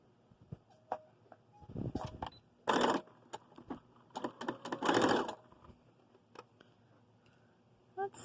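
Domestic sewing machine threaded with black thread stitching a tie-style face mask, heard as several short bursts of rapid mechanical whirring separated by pauses and small clicks, close and moderately loud.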